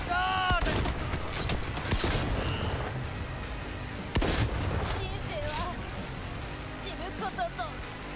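Gunfire in the video game Cyberpunk 2077, with sharp shots bursting out near the start and again around the middle over a busy, noisy game mix, while a voice talks over the action.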